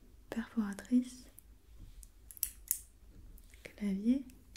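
A paper hole punch clacks and crunches as it is pressed in an ASMR roleplay, with soft whispered speech before and after the brief mechanical snaps.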